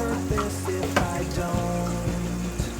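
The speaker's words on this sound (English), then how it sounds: "Okay, this time I'll be frying the turkey." Turkey pieces fry in hot oil for a tomato stew, giving a steady, close crackling sizzle with faint clinks and pops throughout.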